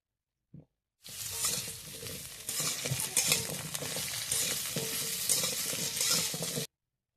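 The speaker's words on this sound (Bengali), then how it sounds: "কুমড়োটা কিছুক্ষণ ভেজে নিয়েছি" Pumpkin pieces being stirred and fried in a pan for vegetarian winter vegetable khichuri. A steady, close sizzle runs throughout with continuous scraping and stirring, and there is a brief knock just before it starts.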